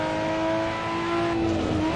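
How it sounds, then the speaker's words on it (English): A Nissan R32 GTR turbocharged engine accelerates hard on the Nordschleife, a steady, loud, sustained drone with rising engine tone throughout, no talk over it. "get on the throttle as soon as you can, keep the turbos working, keep the car going forward."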